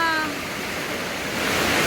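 Heavy rain pours down in a dense, steady broadband roar, with gusty wind sweeping through during a flood in Agusan, close and loud and running unbroken from start to end.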